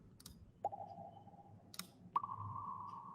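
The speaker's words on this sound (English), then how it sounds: "you see there's like a water drop." Water drop sound effect with reverb in an AR scene: two bright plinks, each ringing into a long sustained reverberant tail, over a quiet low hum.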